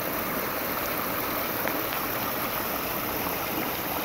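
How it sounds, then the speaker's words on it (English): A backyard pool waterfall heard from above gives a steady, even rush of falling water, close and continuous with no voices. "You guys ever seen what the waterfall looks like from on top?"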